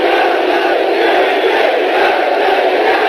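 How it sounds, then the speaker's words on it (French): A loud, steady roar from a large crowd fills the Rose Bowl stadium during a Manchester United versus LA Galaxy football friendly. The broad wash of noise holds throughout with no break. "Et la foule de plus en plus bruyante dans ce Rose Bowl"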